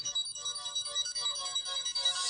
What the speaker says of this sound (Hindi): शैलू का फोन